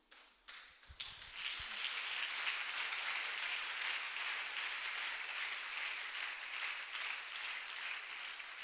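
Congregation at an evangelistic crusade in Tiassalé breaks into sustained applause and acclamation, a dense steady wash of clapping that rises after a brief start and holds loud throughout.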